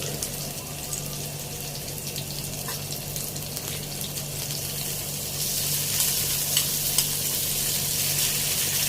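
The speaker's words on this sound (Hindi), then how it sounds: "एकदम फास्ट में नहीं फ्राई करना है कि गोल्डन हो जाए और अंदर तक अच्छी रहे।" Chicken frying on a tava for homemade tava pizza, a steady close sizzle with a constant hiss that grows slightly louder and brighter partway through, no talking.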